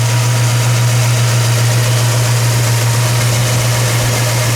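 A 1965 Ford Mustang with a factory F-code 260 V8 and dual exhaust idles smoothly, giving a loud, steady low hum with a constant even throb and no voices.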